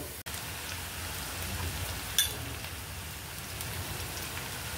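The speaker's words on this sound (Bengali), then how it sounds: "এবার আমি আলুগুলো ভেজে নিব।" Potatoes frying in hot oil in a home kitchen, giving a steady dense crackling sizzle like rain throughout, with one brief knock near the start and a small clink partway through.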